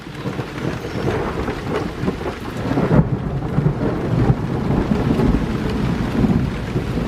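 Thunder rumbles through steady rain during a thunderstorm over a meadow, a loud continuous wash of rainfall with deep rolling swells and a sharper crack around the middle.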